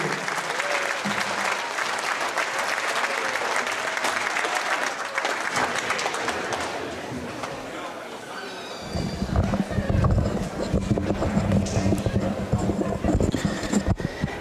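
A school gym crowd at a Minnesota boys' wrestling triangular in Aitkin gives parents a round of applause, with dense sustained clapping that swells louder near the end and carries on without a break.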